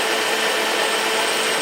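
An antique lathe cuts a taper for a weld, producing a loud, steady, continuous machining whir with no pauses and no voices.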